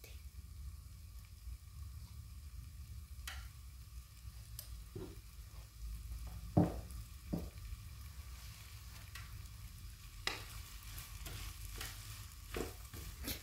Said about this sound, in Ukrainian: Картопля і цибуля разом смажити олією теж дуже смачно.